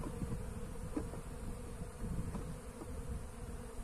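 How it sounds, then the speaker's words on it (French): Honey bees circling and entering in front of the hive make a close, continuous low buzzing hum, with individual bees briefly swelling louder as they pass nearby. "il y a pas mal d'abeilles là qui tournent devant, qui rentrent"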